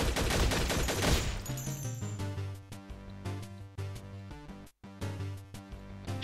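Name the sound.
gunfire from the video game Infectonator: Survivors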